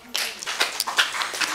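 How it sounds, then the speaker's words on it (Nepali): Brief burst of audience applause at a community gathering, a short patter of many hands clapping that rises quickly and lasts about a second and a half. "जोरदार ताली"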